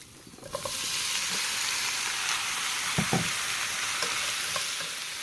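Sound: cucumber sautéing with garlic and onion

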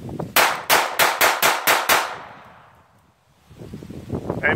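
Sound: Ekol Volga pistol being fired

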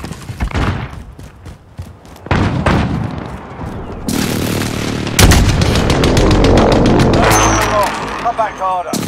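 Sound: precision airstrike explosions in Call of Duty: Modern Warfare (video game)

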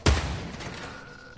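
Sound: accidental gunshot in video game

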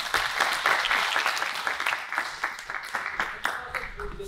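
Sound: applause

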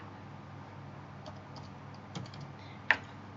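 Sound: typing a command on a computer keyboard

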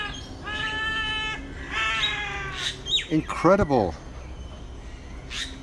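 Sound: birds calling, sounding like cats

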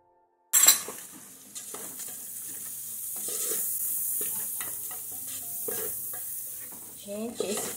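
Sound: onion and dried herbs frying with browned garlic

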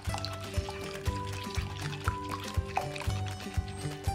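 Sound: milk being poured into a bowl

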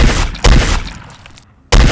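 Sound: gunshots in a video game

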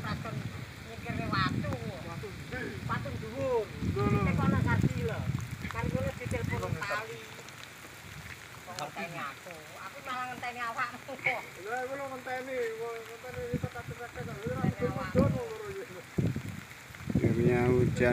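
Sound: rain falling after long dry season

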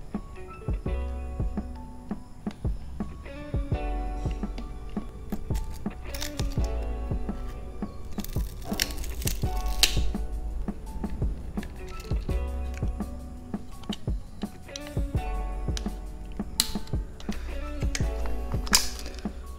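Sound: unscrewing Sony SRS-XB23 speaker panel screws

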